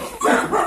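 A dog gives a quick pair of close, loud barks, sharp and yelping, in a brief burst with no talk over it.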